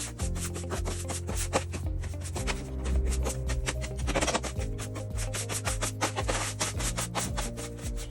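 Water-soaked peat hydrocarbon absorbent being mixed by hand, a steady gritty rubbing and scraping that continues close up for the whole stretch with no talk.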